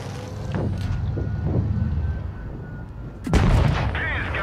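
Tank cannon fire in World of Tanks Blitz, played with a Super Hellcat tank destroyer: low rumbling battle noise and distant booms, then a sharp, loud gunshot blast near the end, with no talk.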